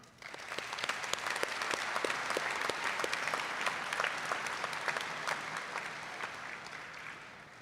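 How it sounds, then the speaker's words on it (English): An audience at a high school graduation ceremony breaks into steady, sustained applause, many hands clapping densely for several seconds before tapering slightly. "Let's give them an applause right now."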